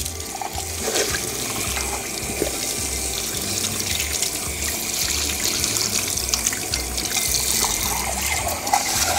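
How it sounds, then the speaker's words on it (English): Water from a tap gushes steadily over a rusty metal piece that was sprayed with vinegar, rinsing it. The rush is close and continuous with no pauses. "rinse it off and see what we got"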